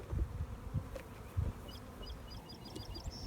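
Low buzzing of bees close by at a hive, with soft thumps and handling noises as hive frames are handled, and faint bird chirps in the background.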